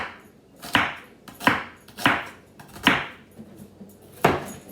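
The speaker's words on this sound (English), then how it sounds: "Okay, so I got the onions cut up." Knife chopping onions on a board in a home kitchen, six sharp, evenly spaced chops ringing out close and clear with nothing else over them.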